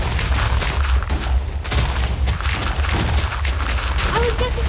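Blocks being blown up by laser shots in a Death Run video game, dense loud rapid booms and blasts in quick succession, with a voice talking in the background.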